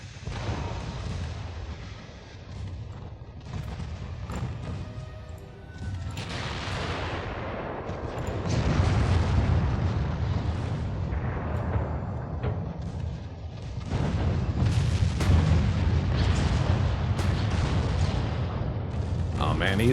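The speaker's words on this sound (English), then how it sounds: "Lots of explosions in their fleet." Naval battle in the video game Ultimate Admiral Dreadnoughts, a dense, continuous rumble of gunfire and heavy booming explosions that swells louder partway through, with a voice talking over it.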